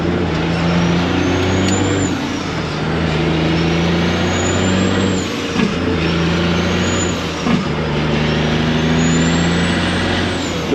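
A 1996 truck shifting up through its gears, engine droning loud and close, with rising whines and brief dips between shifts.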